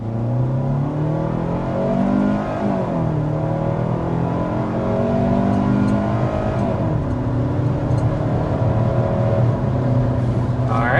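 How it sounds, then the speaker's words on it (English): A 2026 Kia Sportage with a naturally aspirated 2.5-liter four-cylinder and an eight-speed automatic accelerates hard to 60 mph, its engine droning loudly and climbing in pitch through gear changes, heard from inside the cabin. "that takes us to 60 miles per hour with the 2026 Sportage"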